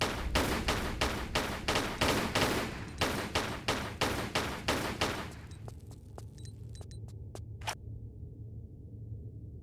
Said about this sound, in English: Let's use some pistols.